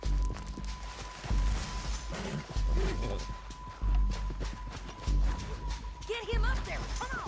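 Horse hooves pound in a steady gallop in Red Dead Redemption 2, loud rhythmic thuds under a constant game score, with shouting voices over the ride.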